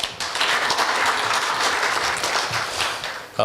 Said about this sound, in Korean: 다시 한번 좋은 발표를 해주신 저희 주 AOL 백기현 대표께 큰 박수 부탁드립니다.